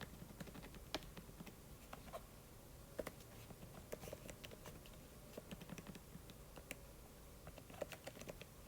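Typing on an iPad keyboard, with irregular quiet key clicks in quick bursts and scattered louder taps, close up and alone in a quiet room.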